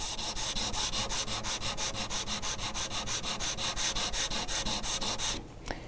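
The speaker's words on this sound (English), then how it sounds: "I'm going to level sand that until the high spot, that's the glue boost," Steady, rhythmic back-and-forth sanding strokes level a guitar's lacquer finish down to a glue bump, each pass a loud, close rasping rub, continuing without pause for several seconds before ending abruptly.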